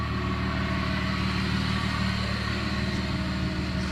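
A Plymouth Prowler sits idling, its exhaust giving a steady, even low rumble that holds unchanged from start to finish, with no voices over it.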